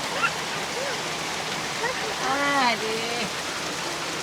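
A heavy downpour drums steadily near a shop front, with a soft, brief voice-like call rising over the constant rain hiss partway through.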